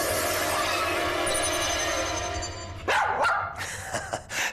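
A dog barks in a few sharp, close bursts at the end, after a stretch of steady background noise.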